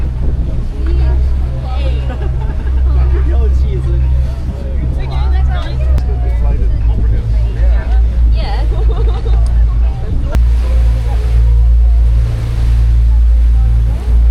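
A cruise boat moving across Hong Kong harbour, its engine a steady low drone under wind, water wash and lapping waves, with a crowd of people chatting in the background throughout.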